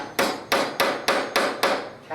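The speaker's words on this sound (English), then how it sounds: "you can always just take a hard hammer" A hard hammer taps a screw into wood in six evenly spaced, sharp strikes, each ringing briefly before the next, close up with no talking.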